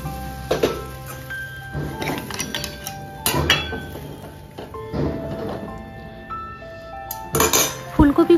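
A metal spoon scrapes and clinks against a cooking pot while thick spice paste is stirred, sharp knocks coming at irregular intervals over a faint hum, louder toward the end.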